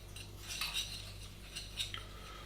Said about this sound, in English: get yourself a spoon, mix all these ingredients together